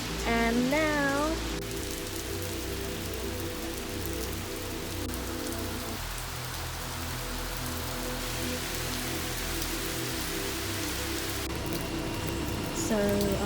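Rain falls steadily outdoors near a barbecue, a dense continuous patter on surfaces with a faint tonal whistle at the start and end.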